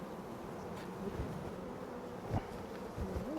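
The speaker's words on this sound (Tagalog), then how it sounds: "That's the strong hive. Look at that." A strong, open honeybee hive buzzes in a low steady drone, with individual bees whining past close by now and then; no talk over it.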